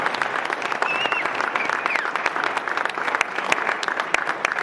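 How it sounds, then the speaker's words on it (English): An audience at a mock court session gives a sustained round of applause: dense, steady clapping that holds at an even level throughout, with no one speaking over it. "Let's give them a round of applause."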